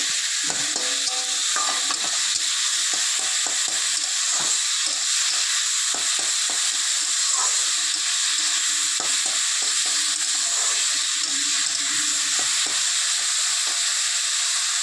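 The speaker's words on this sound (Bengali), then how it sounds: "এই দেখুন কড়াতে তেলের মধ্যে দিয়ে ঝিরিঝিরি করে আলুটা কেটে কড়ার মধ্যে এবার ভাজবে।" Thinly sliced potatoes fry in oil in a wok, a continuous bright sizzle with frequent scraping stirs and clinks close by, and no voices.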